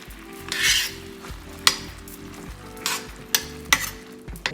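Peach cobbler filling simmering in a pot, a steady sizzle and bubble running throughout, broken by several sharp clinks of a spoon or utensil against the pot.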